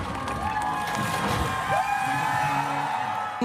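A festival crowd cheers and whoops at a launch moment, a dense, loud, continuous roar of many voices with scattered shouts rising above it.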